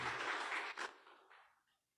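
A church congregation at a Father's Day service bursts into applause, a dense wash of many hands clapping that quickly tapers off and fades to silence within two seconds.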